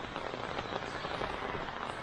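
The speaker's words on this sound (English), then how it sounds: "See, it rains again." Rain falls in a steady, fine patter with soft crackling texture, moderately faint and continuous for a couple of seconds.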